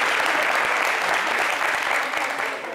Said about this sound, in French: Mais on l'applaudit encore.